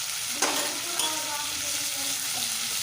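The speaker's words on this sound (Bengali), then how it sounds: "আদাটা একটু ভালো করে আলুর সাথে কষিয়ে নিতে হবে" Ginger paste frying with potatoes in hot oil gives a steady, bright sizzle that fills the short stretch, with a couple of sharp ladle clicks near the start.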